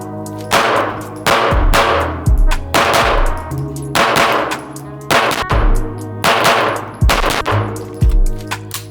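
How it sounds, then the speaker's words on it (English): Rapid strings of loud, close SIG P211 pistol shots crack out in bursts of several rounds with short pauses between them, each report followed by a metallic ring. "I just want to shoot this thing fast"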